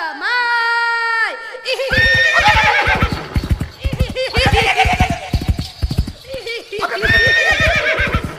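A horse whinnies loudly and close for nearly two seconds, with a shrill wavering call, then hooves clip-clop rapidly alongside excited shouting voices and further neighs in a village comedy scene.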